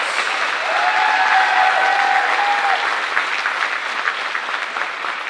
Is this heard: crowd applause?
yes